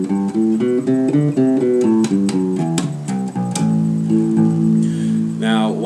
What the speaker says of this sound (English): So the Dorian has a minor flavor, it's a minor scale, and again it sounds like this.